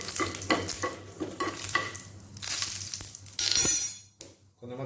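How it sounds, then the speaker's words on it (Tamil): Mustard seeds, urad dal and three dried red chillies crackle and sizzle in hot oil in a pan as a tempering for peanut chutney, with stirring and occasional utensil clinks, fairly close and continuous before fading near the end. "சட்னிக்கு தாளிக்கிறதுக்காக பேனில் எண்ணெய் ஊற்றிட்டேன்"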